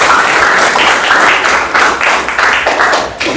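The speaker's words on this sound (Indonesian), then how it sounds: "Ya, tepuk tangan." Dense, steady applause from a classroom audience during an Indonesian teaching-practice lesson, many hands clapping together at close range for a few seconds with a slight dip near the end.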